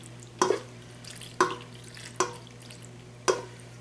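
Macaroni and cheese sauce being stirred in a pot, four distinct spoon clunks against the metal spaced about a second apart, with soft wet squelches between them over a steady low hum.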